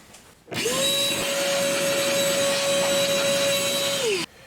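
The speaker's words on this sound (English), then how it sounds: "So we're just going to vacuum it out really quickly." A vacuum cleaner switches on with a rising whine, runs at a steady loud drone for a few seconds, then winds down and cuts off while clearing debris from a Ford Escape engine bay near the spark plugs.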